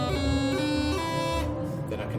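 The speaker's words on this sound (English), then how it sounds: "So a single grace note would sound like this." A bagpipe sounds a melody note with a single quick grace note before it, bright reedy tones over the steady drone, heard up close and continuous for about two seconds.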